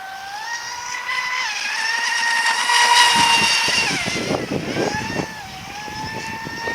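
A 26-inch Diggerwasp mono RC boat's motor whines steadily close by, its pitch rising and falling as it turns in figure eights, with water splashing and churning underneath and cooling water spraying from the side.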